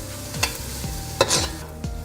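Onions, pimento, minced garlic and hot pepper slices sizzle steadily in hot oil for fried rice, with a few scraping stirs of a utensil in the pan, close and alone.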